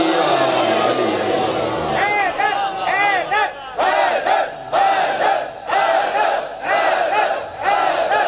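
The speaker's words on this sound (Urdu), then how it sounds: "علی ولی اللہ نعرہ حیدری" A large crowd at a Muharram majlis roars in unison, answering a Naara-e-Haidari religious chant with repeated loud collective shouts that rise and fall in waves, one after another, filling the gathering hall.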